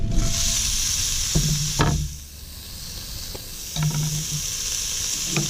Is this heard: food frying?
yes